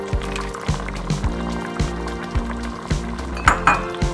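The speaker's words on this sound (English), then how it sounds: "We're going to add our mussels in, as well as our clams." Mussels and clams drop into a boiling seafood spaghetti sauce, giving a series of regular liquid splashes and shell clinks over a bubbling simmer, close and fairly loud.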